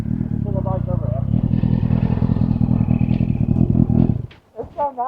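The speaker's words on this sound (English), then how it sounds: "Pull the bike over here." An Indian bagger motorcycle's engine throbs loudly and steadily at close range, with a metallic clatter layered in, then cuts off abruptly. Voices come in over the engine and continue after it stops.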